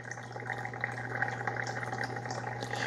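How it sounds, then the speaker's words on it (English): Water runs through a Bunn Speed Brew Platinum Thermal 10-cup coffee maker during a descaling cycle, giving a steady, continuous trickling and hissing flow with a low hum underneath, unbroken and close throughout. "It doesn't take long for that water to run through there."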